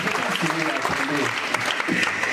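Applause from a church or gathering audience for a supportive woman, a dense, steady patter of many hands filling the room, with some voices mixed in.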